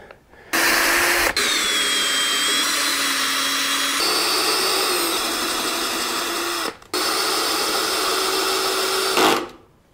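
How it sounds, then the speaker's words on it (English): Power tapping of threaded holes in a Caterpillar D4 transmission case cover, a steady whirring motor drone running close and loud for several seconds, cutting out briefly twice before stopping, with no talk. "Before I do that though, I'm gonna go ahead and tap out all these holes."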